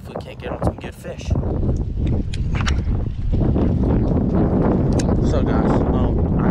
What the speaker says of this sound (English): it's just way too windy right now